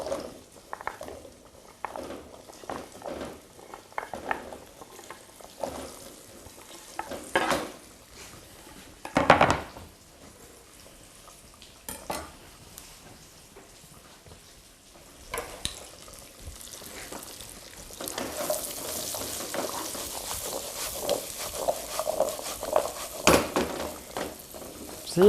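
Cumin seeds and chunks of pumpkin fry in a hot pan, giving a soft sizzle with scraping and stirring sounds and an occasional clatter of cookware, growing denser and louder toward the end.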